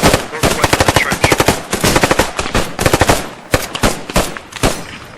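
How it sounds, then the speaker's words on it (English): Squad in the Post Scriptum video game dumping magazines of rapid automatic gunfire into a window, dense overlapping bursts of loud close shots with little pause, with brief voice under the firing. "you're going to dump a mag into that window"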